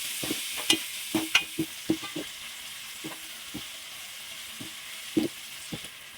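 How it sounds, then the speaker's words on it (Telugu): Onion slices for paneer biryani fry golden in oil under a continuous quiet sizzle, while a spoon scrapes and taps the pan in a string of sharp, irregular strokes. "ఉల్లిపాయ ముక్కలు బాగా ఫ్రై అయ్యాయి"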